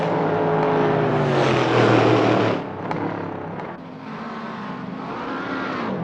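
Race cars in a motor race, with a loud engine drone that rises and falls in pitch as a car accelerates and shifts, then eases to a lower, steadier roar. No voices.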